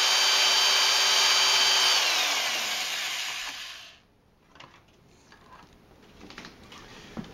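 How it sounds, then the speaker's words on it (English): A power drill fitted with a wire hanger attachment whirs loudly and steadily while aerating beer wort for a double IPA, then winds down and stops, leaving faint clinks and handling noise. "we've aerated the wort, as you see, with my trusty hanger contraption on my drill"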